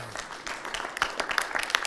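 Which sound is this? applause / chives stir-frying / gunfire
applause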